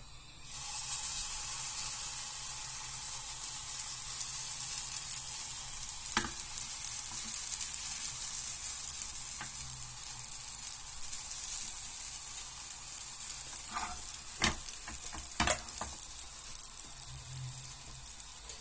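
A potato and cheese galette fries in oil in a pan, giving a steady, close sizzle and hiss that runs unbroken, with a few sharp clicks and scrapes of utensils against the pan partway through.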